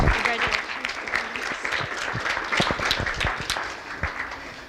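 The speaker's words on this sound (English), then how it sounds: "Let's give them another round of applause." Steady applause from a graduation ceremony audience honoring valedictorians, dense overlapping claps with a few louder close hand claps, sustained for the whole stretch with faint voices mixed in.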